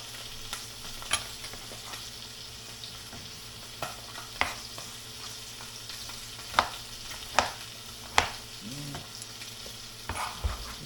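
Bottle gourd sliced lengthwise is sautéed in a pan, a low steady sizzle with repeated sharp clacks of a utensil stirring and scraping, close by and with no talk.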